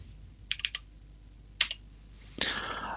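A computer keyboard typed in short bursts, a few close quick key clicks, then a lone pair, then a longer clattering run at the end, with no speech over it.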